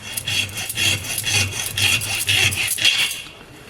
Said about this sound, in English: Let's split it here with the good old hacksaw and see what we get.